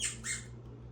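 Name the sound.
dog squeaking a squeaky toy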